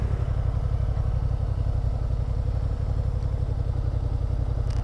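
A Honda Hornet 750cc motorcycle engine runs nearby with a steady, fast-pulsing throb and a faint mechanical clatter, holding an even level throughout with no one speaking.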